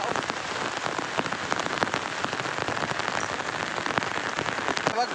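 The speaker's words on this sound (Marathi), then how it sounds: "एवढा पाऊस आलाय" Heavy rain falls steadily in a village setting, a dense patter of drops striking a surface with sharper nearby splats, continuous and fairly close, with no talk.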